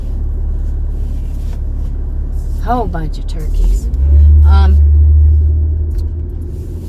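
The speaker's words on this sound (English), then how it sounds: "good thing that car stopped" A car on a country road where a flock of turkeys is crossing gives a low rumble that swells in the middle and fades as it comes to a stop, heard beneath someone talking nearby.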